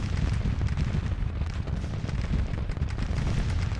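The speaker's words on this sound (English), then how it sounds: "Oh, that artillery is killing me up front." Artillery fire rolls through a Grand Tactician: The Civil War battle at Alexandria, a dense, continuous low rumble of booms and crackling shots that stays loud and steady throughout with no talk.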